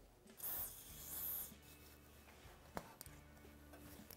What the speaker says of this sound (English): I'll spray a little silicone spray on here.